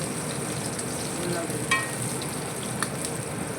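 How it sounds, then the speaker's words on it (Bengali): Tangra fish frying in oil in a home kitchen pan, giving a steady, even sizzle with a couple of faint clinks, with soft talk in the background. "ট্যাংরা মাছ ভাজা"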